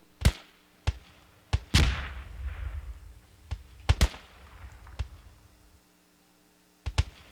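Sharp explosive bangs and thuds in a squad-based shooter match, several isolated blasts spaced irregularly with one longer rumbling burst, loud and close.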